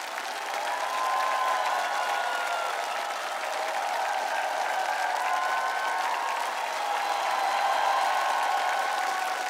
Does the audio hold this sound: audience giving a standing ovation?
yes